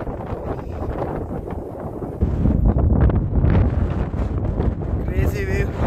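Strong wind on a rocky hilltop near Bengaluru buffets the microphone in a loud, rushing roar that swells halfway through and keeps going, with a voice faintly underneath.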